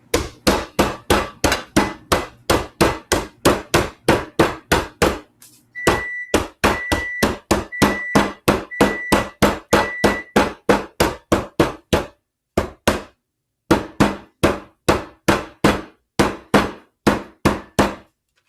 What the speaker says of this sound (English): you're just gonna take a hammer or something like this and you're gonna smash them